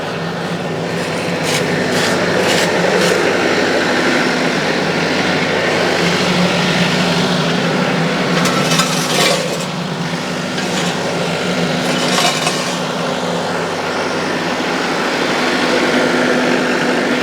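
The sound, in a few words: tractor engine running while lifting with forks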